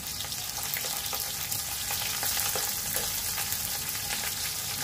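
Garlic and onion fry in a pan for adobong sitaw, giving a steady, close sizzle with faint crackles throughout.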